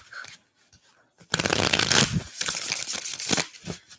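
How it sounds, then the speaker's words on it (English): Playing cards are shuffled up close in loud riffling bursts, one long run followed by several shorter flicks, with quiet gaps between. "Let me shuffle one more time."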